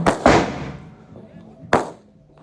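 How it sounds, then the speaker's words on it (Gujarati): Diwali fireworks from an anar fountain go off in two sharp bursts close by, each flaring and then fading into a hissing tail, with voices around them. "જો અનાર છે કેવા મસ્ત છે, નાનું છે પણ નાગનું બચ્ચું હો."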